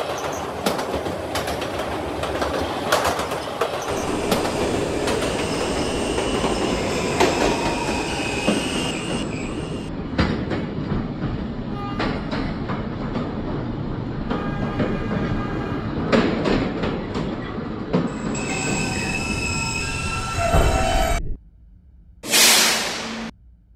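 An R160 New York subway K train runs between stations, its steady rumble and clickety-clack carrying through the car with high wheel squeal rising over it, then a brief quieter gap and a short burst near the end.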